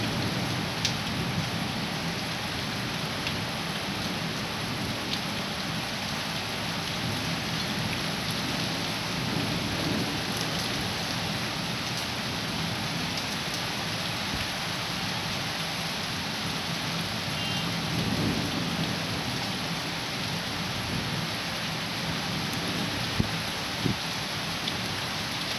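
Heavy outdoor rain pours steadily and loudly on surfaces in a garden, with low rumbles of thunder rolling beneath the constant downpour.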